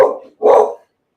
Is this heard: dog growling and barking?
yes